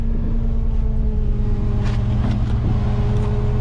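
A 1998 Chevrolet 3500HD rollback truck engine, a hard starter, holds a steady close rumble with a bit of throttle, a low continuous drone with faint revving swells.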